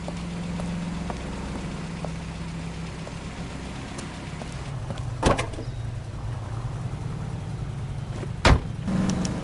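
A taxi cab driving in the L.A. Noire video game, a steady engine and road rumble heard from inside, with a couple of sharp knocks or thumps breaking through the constant drone.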